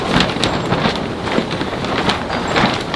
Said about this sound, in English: It's really, really windy in here.